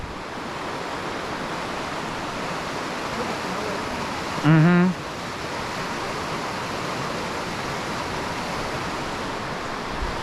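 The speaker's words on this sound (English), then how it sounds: "Strong river, go whoosh." The strong Elwha River rushes in a constant loud broadband whoosh heard from nearby, with a person briefly murmuring midway.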